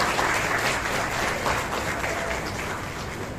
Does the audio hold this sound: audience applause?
yes